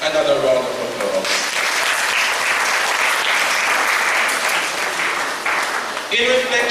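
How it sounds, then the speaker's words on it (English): Loud, dense audience applause at a school retirement function in Jamaica, a sustained roar of many hands clapping that swells and then tapers, with a voice speaking briefly at the start and again at the end. "She deserves another round of applause"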